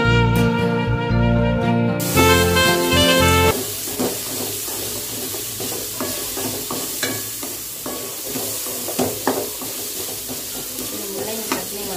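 Radish pieces sautéing in oil in a pan give a steady, close sizzle with scattered stirring clicks and scrapes, after a loud musical opening in the first few seconds; no one speaks.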